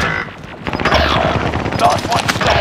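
Gunfire rattles through a Call of Duty: Modern Warfare firefight, dense rapid bursts of automatic fire stacking into a loud, continuous barrage with scattered sharper cracks.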